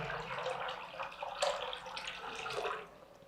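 Water pours from one-litre bottles into a container, a steady splashing gurgle that swells and eases, with no talk over it.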